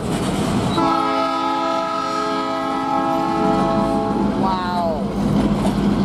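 A rich multi-chime P3 locomotive air horn on a CN freight train holds steadily for several seconds over heavy train rumble, then bends downward as it ends.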